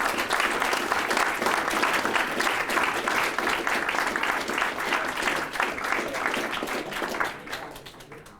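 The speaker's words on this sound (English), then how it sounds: "Let's give them a round of applause." An audience at an election debate event gives a sustained round of applause, dense steady clapping from a crowd that holds for several seconds and then fades away toward the end.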